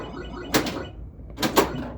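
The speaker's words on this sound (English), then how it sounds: "There's 2 knocks because I got the 1000" The knocker on a Bally Six Million Dollar Man pinball machine fires twice, a pair of loud, sharp thwacks about a second apart, each with a brief ringing tail over quiet machine hum.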